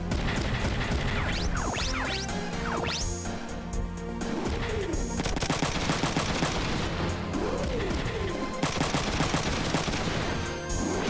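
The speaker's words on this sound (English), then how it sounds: "Hey, why are you shooting at her?" Gunfire in the mecha video game Front Mission 3, with loud bursts of rapid automatic shots, crashes and impacts layered with game sound effects across roughly eleven seconds.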